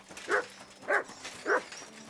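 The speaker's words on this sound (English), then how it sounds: "Good dog, Matt" A hound in the video game Kingdom Come: Deliverance II gives three evenly spaced barks at moderate distance, with no speech over them.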